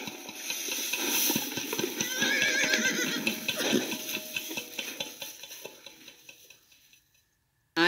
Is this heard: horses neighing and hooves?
yes